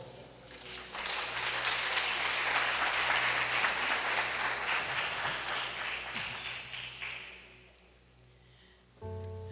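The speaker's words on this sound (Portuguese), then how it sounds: "dando um aplauso para o Senhor." A church congregation applauds during a worship service, a broad wash of clapping that swells after a quiet start, holds steady, then fades away to near silence before a brief sound at the end.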